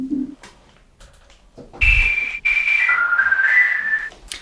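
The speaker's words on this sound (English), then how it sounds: "it sounds like a whistle" A free whistle synth plugin plays a short melody of clear, pure whistling tones, several sustained notes stepping down and back up in pitch, loud and alone after a brief low tone.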